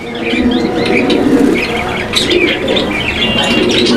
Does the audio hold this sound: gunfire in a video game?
no